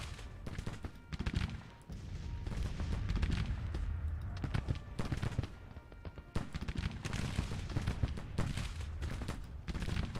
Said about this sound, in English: McIntosh unloads a volley.